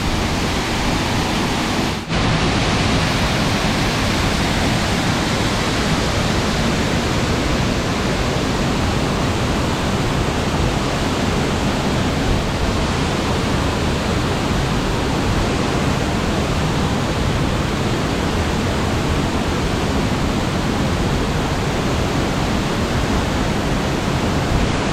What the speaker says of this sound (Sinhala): මේක ජෝඩු ඇල්ලක් විදිහට තමයි වැටෙන්නේ